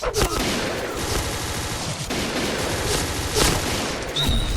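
Rapid automatic gunfire in the online shooter Point Blank, dense bursts of shots filling the whole stretch with a few louder cracks, close and loud, with no talk over it.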